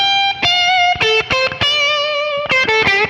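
Distorted electric guitar playing a blues lick, a quick run of bent and sustained notes with sharp picked attacks, loud and upfront with no voice.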